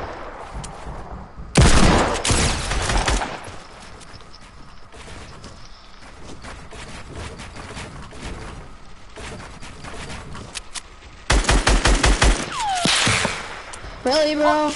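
Gunfire in a video game: loud rapid bursts of automatic shots in two main volleys near the beginning and toward the end, with scattered single shots and mechanical clicks between, and a voice talking over parts of it.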